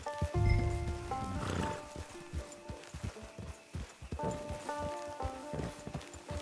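A horse in Red Dead Redemption 2 clip-clops at a walk with uneven hoof strikes, accompanied by a snort and soft background game music.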